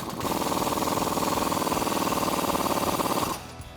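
Rapid impact-style hammering on a flag nut and bolt being driven with a 21mm socket during a Mammoth lift kit install on a Jeep Wrangler JK, one loud, steady, close burst lasting over three seconds before cutting off.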